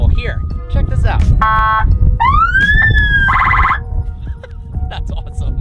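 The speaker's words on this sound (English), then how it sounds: "there are a series of police sirens that you can activate using the panel here" Several police-style siren and alarm tones triggered from a control panel inside a Rezvani Tank armored SUV, cycling through wails, rising sweeps and pulsing electronic patterns, loud and close over a rumbling background.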